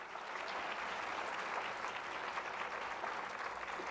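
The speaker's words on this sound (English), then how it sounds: "And I think that deserves a round of applause." An audience at an awards presentation gives steady, continuous applause for a children's theater program, a dense even patter of many hands that is soft and somewhat distant, with no talking over it.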